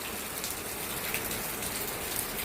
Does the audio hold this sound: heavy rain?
yes